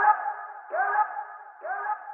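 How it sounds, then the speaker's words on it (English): Vocal chop sample from a Vox pack, three clipped, pitched vocal syllables repeating in an even rhythm, each sliding up briefly at its start, dry and isolated with no other sounds. "Lastly, we're using a vocal chop Vox."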